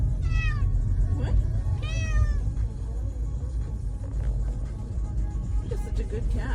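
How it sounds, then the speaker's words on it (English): Cat meowing from inside a moving car, two drawn-out meows close by early on, then softer sounds over a steady low road rumble. "You're such a good cat. You're such a good rider."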